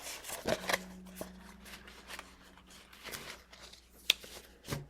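Slippery tarot cards being shuffled on a table, quiet and close, with soft riffling bursts and sharp flicks scattered irregularly among low background hum.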